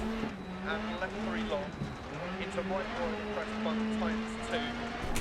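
A Volkswagen Polo WRC rally car races on snow in DiRT Rally, with its engine whining up and down through quick shifts and revs. The loud engine stays steady and fairly close throughout.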